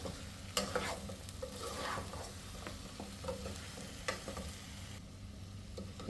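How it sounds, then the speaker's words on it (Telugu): Chicken being stir-fried with chili powder, garam masala and coriander powder for a chicken fry, a steady close sizzle with scraping stir strokes in the pan, no voices. "ఇట్లా ఒక 2 నిమిషాలు బాగా కలుపుకుంటూ వేయించుకున్నాము, కింద అడుగంటకుండా."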